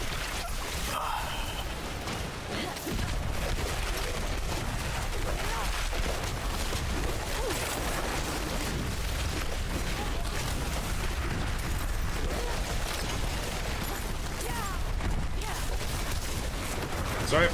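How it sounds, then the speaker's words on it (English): Dense, continuous rumble of overlapping explosions and gunfire-like blasts in a video game, a steady loud wash of booms and crackles lasting throughout. "A lot of things are exploding over here."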